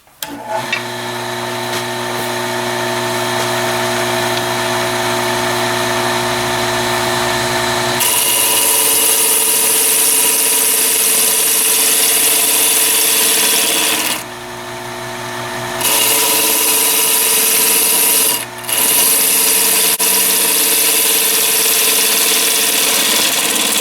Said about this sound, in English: So I've turned the lathe in reverse so I can see in there better.